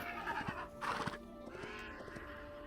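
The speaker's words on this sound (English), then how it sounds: "Oh, there's horses on the beach now." Horses whinny on a beach in Hytale, game neighs rising in two loud bursts with soft clip-clop hoof thuds over a steady background hum.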